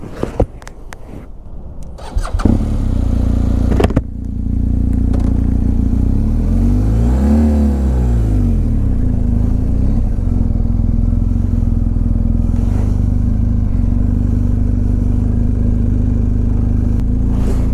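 A motorcycle on the M6 motorway roars into life and then runs with a loud, steady engine drone. A nearby vehicle sweeps past midway with a rising and falling whoosh, and no one speaks.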